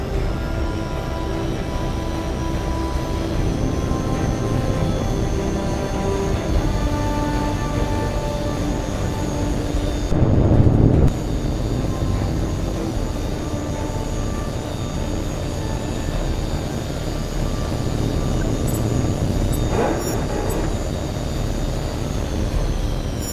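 Jet aircraft engine roaring steadily through a takeoff in the combat flight game HAWX 2, a loud continuous rumble with a brief surge in the middle and no talking.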